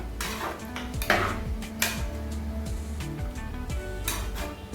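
Chicken biryani ingredients tossed together in a metal pot, with repeated clanking and scraping of a spoon against the pot in an irregular rhythm, close and moderately loud, no one speaking.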